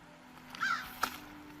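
Two crow caws ring out outdoors, the first a drawn-out call and the second a short, sharp one a moment later, each standing alone against a quiet background hum.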